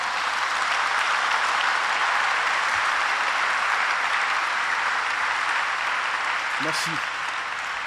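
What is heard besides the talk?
congregation applauding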